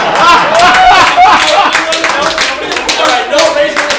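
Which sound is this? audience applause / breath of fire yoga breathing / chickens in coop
audience applause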